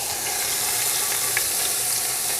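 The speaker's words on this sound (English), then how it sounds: "Should hear a sizzle." A chuck roast sizzles steadily as it hits the hot pot of a 10-quart Instant Pot Duo Nova, a dense, continuous frying hiss with faint crackles, close and fairly loud throughout.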